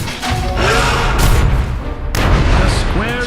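Remote mines detonating in Dota 2: heavy, booming game explosions rumble one after another with a crash partway through, while a commentator talks over the blasts.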